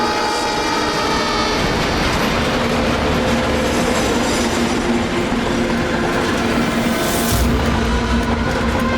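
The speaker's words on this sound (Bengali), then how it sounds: "100 বছর আগে ট্রেনটা টানেলের ভিতরে ঢোকে।" A train runs loudly and steadily throughout with a dense rumbling roar and clattering rail noise, a brighter hiss swelling briefly near the end, and no talk.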